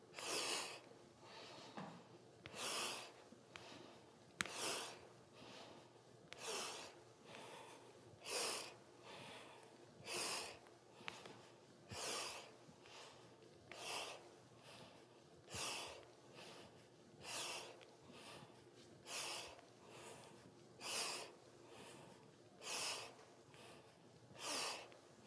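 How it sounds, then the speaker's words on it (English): Rhythmic sharp nasal breaths of a kundalini breathing practice repeat steadily for the whole stretch, about one every second, close up and moderately loud, each a quick forceful inhale or exhale over a low background hum, without speech. "Inhaling up, exhaling down."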